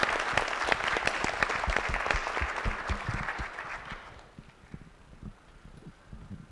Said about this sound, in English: let's have a round of applause for Peter.